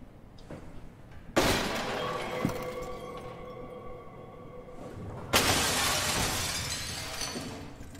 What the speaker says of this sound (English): There's broken glass everywhere now.